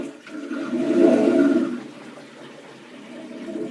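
Water gurgles and rushes down the drain of an overflowing bathroom sink, close and fairly soft, swelling midway through and then tapering to a steady trickle with no talking.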